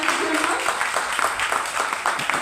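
Audience clapping loudly and continuously at a talk, a close, dense patter of hands with no pauses, faint speech mixed in underneath.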